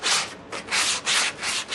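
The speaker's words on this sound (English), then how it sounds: "Just using the sanding sponge here to get the flap off the bottom of these holes." A sanding sponge rubs back and forth over the edges of drilled holes in a metal workpiece at the mill, giving close, rhythmic scratchy strokes in quick succession.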